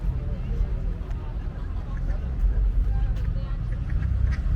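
Ducks quack intermittently among swans and geese in a small park in Cappadocia, Turkey, over a steady outdoor background of murmuring people and distant traffic, the birds sounding scattered and moderately near.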